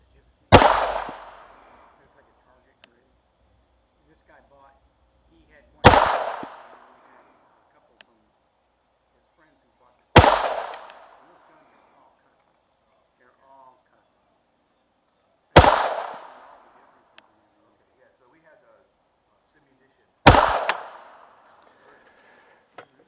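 A Tisas PX9 pistol fires 124 grain Hot Munitions FMJ rounds on a shooting range: five loud, sharp shots spaced about five seconds apart, each followed by a brief echoing decay, with near silence between them.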